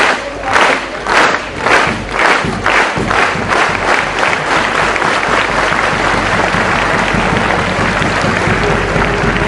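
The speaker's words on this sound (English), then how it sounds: "please give them a round of applause" Audience applause for a seven-member panel of judges at a debate final, loud dense clapping with some crowd noise, strongest at the start and settling into steady applause without speech.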